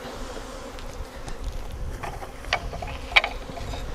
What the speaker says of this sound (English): the rest of the bees will march right in when they smell her pheromone